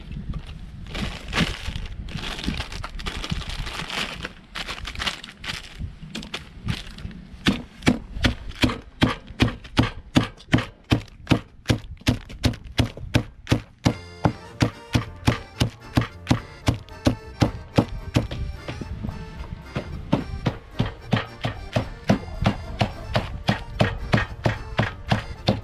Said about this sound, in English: Dave has pounded these flat